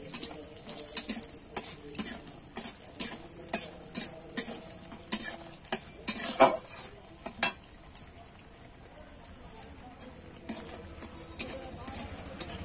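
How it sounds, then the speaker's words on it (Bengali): Biuli dal bori, small lentil dumplings, are fried in oil with a soft sizzle and repeated scraping, stirring clinks of a spatula against the pan, rhythmic and close, with a person talking at times. "এবারে ওই তেলেতেই কিন্তু আমি বড়িগুলো ভেজে নেব।"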